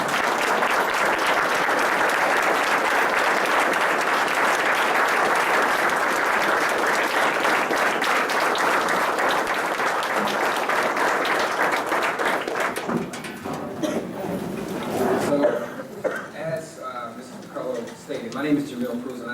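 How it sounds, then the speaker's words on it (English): Loud, sustained applause from a large crowd honoring the graduating class of 2015 at a Hamburg graduation ceremony, steady for about thirteen seconds before thinning out under scattered talk. "give a huge round of applause to the class of"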